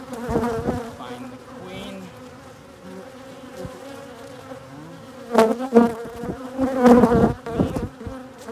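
Honeybees buzz loudly and close around an aggressive hive, a dense droning hum that swells in waves as insects pass near, with no talking.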